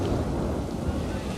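Steady rain hiss in a tropical Planet Coaster 2 park, a broad, even wash of noise with a low rumble beneath it, continuous and moderately quiet.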